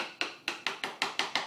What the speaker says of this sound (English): I'm going to use a small metal hammer, not a rubber mallet, because you won't hear when it seats